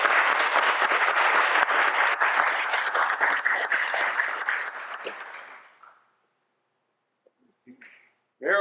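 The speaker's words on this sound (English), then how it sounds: "Can we just give them a round of applause?" A memorial service audience applauds steadily and loudly for several seconds, then the clapping thins out and fades to near silence, and a brief voice is heard right at the end.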